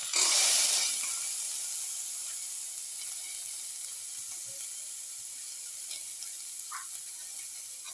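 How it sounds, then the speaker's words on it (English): Garlic sautéing in a pan for a tomato yogurt casserole: a sharp burst of hiss as it goes in, then settling into a steady, moderate sizzle with small scattered pops and no talking. "Saute garlic."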